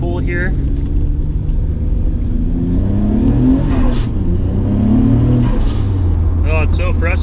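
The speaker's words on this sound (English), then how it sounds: "I like the way the Tomei manifolds and the HKS elbows sound" An R32 Skyline GT-R with new twin turbos, Tomei manifolds, HKS elbows and raised boost pulls hard from inside the car, its engine note climbing steadily beneath continuous conversation.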